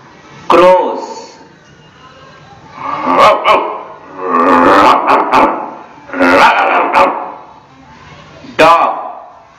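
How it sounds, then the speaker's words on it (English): Sharp dog barks ring out near the start and end, with voice-like vocal sounds filling the stretch between them. "Dog, barks."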